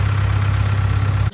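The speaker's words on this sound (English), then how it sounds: "Got a lift and a tractor." A tractor engine idles nearby, producing a steady, loud low-pitched mechanical chug with an even pulsing rhythm, heard briefly and without any voices.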